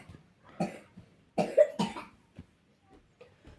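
A person coughs indoors in an apartment, a few distinct harsh coughs in separate bursts with short quiet gaps between them, close and fairly loud.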